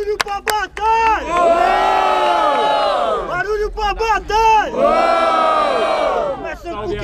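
A battle rap crowd at Batalha do Metrô erupts in loud cheering, whooping and shouting in two big waves, with sharp claps and yells at the start and noisy babble throughout.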